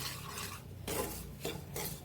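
Semolina (rava) being dry-roasted and stirred in a pan for rava laddu gives a close, soft scraping and rustling in a few uneven sweeps, with no voices.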